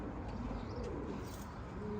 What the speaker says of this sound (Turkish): Güzel kuşlar